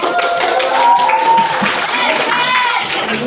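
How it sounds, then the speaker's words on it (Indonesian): Students clapping their hands together in a classroom during a lesson, a dense burst of claps with whistle-like tones and voices mixed in, fairly loud and steady throughout. "tepuk tangan"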